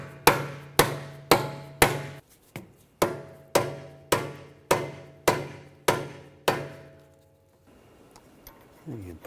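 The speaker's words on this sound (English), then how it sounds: "Lightly using a rubber mallet, just push the CV axle all the way down. Just give it a couple taps just to get it so it goes in the hub." A rubber mallet taps a CV axle into the rear hub of a 2009-2013 BMW 328i xDrive, about ten evenly spaced, sharp, ringing knocks, with a short pause partway through and then a quieter stretch of faint handling noise at the end.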